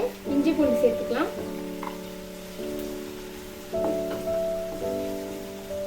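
Onions sautéing and being stirred in a pan for street-style masala puri, a steady close sizzle with scraping stir strokes and a constant tonal hum running underneath.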